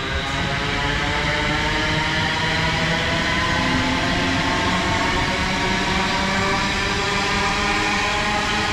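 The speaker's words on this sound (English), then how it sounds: "This is 1708 service to London Euston from Crewe." A passenger train on the 1708 Crewe to London Euston service passes in a steady, loud, unbroken roar with a sustained hum that holds level for the whole stretch, and no one speaks.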